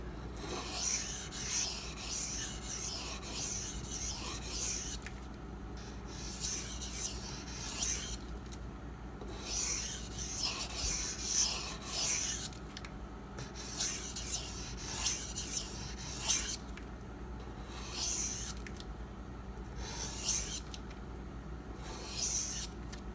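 A knife blade in CPM-20CV steel, from a Zero Tolerance 0393, is drawn in light passes across a flattened 2500 grit silicon carbide stone, giving repeated soft, gritty rasping strokes in a steady rhythm with brief pauses, close and alone.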